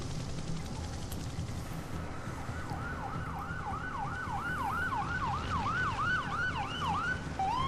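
Ambulance siren wails in the Urban Chaos Riot Response video game, a repeating rising-falling tone that starts midway and continues steadily over a dense background rumble, moderately loud.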